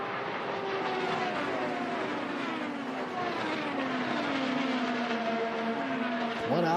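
IndyCar race cars, including Team Penske entries, run together on the Indianapolis oval during the Indy 500 Open Test. A steady loud engine drone carries shifting pitch sweeps as cars pass, with a fresh surge near the end.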